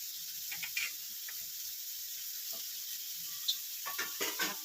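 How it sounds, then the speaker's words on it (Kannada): Wheat noodles are stirred and mixed in a large pan with coriander leaves, giving soft scraping strokes and a faint sizzle over a steady hiss, with sharper clusters of stirring near the end. "ಚೆನ್ನಾಗಿ ಮಿಕ್ಸ್ ಮಾಡ್ತೀನಿ"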